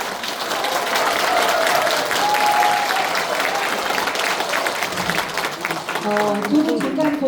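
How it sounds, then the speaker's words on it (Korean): Loud, sustained applause from a crowd at a political party event after an agreement signing, a thick continuous wash of clapping with voices and a few shouts mixed in throughout. "큰 박수 부탁드립니다."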